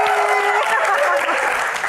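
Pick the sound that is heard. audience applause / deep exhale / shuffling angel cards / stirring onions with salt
audience applause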